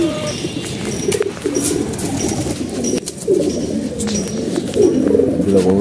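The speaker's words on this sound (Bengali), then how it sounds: "দুটো কবুতর আমি ছেড়ে দেখে দিচ্ছি।" Two pigeons, just released, coo steadily in soft, rounded calls, close by against a busy background.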